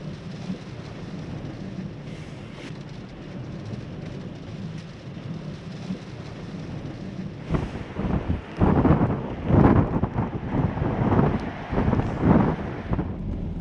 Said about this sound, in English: it's actually got worse. So I'm just gonna have to ride this storm out.